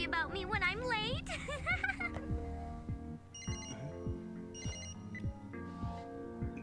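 A telephone from the Death Note anime rings with an incoming call, its electronic ring tones repeating in short bursts over background music and a reacting voice.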